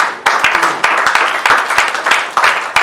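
Congregation at a church service applauding together, a continuous crowd clapping with sharp individual claps standing out, fairly loud and steady throughout.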